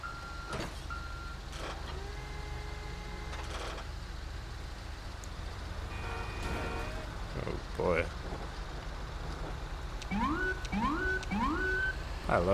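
Engine hum and scattered tones, with a voice talking, then a police car siren rises in three quick repeating sweeps near the end, in the video game GTA 5.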